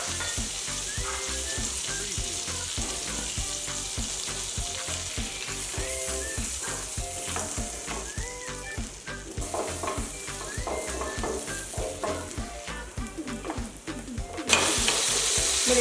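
Butter and chopped garlic fry in a pan as the start of a white sauce for a paneer shashlik sizzler, giving a loud, continuous sizzle and crackle with faint tonal sounds underneath.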